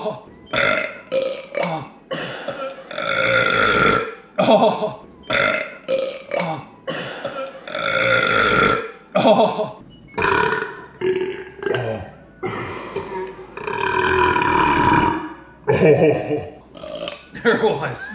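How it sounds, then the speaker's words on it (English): Loud, drawn-out burps in a family burping contest, several long belches in a row broken by short gaps, with people talking and laughing between them, all close to the listener. "That was the best classic dad burp."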